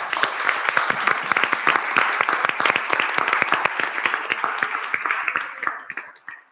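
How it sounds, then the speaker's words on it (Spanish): A group at a conference session claps together at the close of a panel discussion. The applause is steady and close, with distinct individual claps, and it tapers off near the end. "creo que nos merecemos un aplauso"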